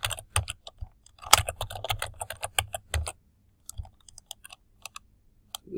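Rapid clicking keystrokes on a computer keyboard while employee details are entered, bursts of close, crisp typing with short pauses, trailing off into sparser key taps.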